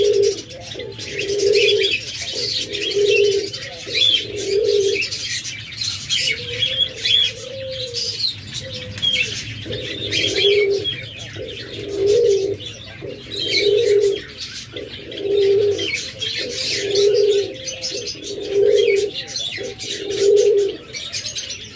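Diamond doves in a bird-seller's cage, cooing in soft repeated phrases at a steady pace, close by, with faint chirps and a brief wing flutter mixed in.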